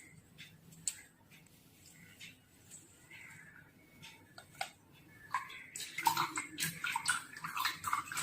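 Homemade herbal hair oil, simmered for a full day, poured through a sieve, giving soft intermittent trickling and dripping that grows busier and louder toward the end, with faint clinks and no talking.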